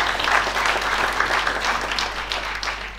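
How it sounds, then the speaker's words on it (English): Applause from a conference audience at an early childhood development stakeholders event, a dense steady wash of many hands clapping throughout, fairly close and even. "Let's give them another round of applause."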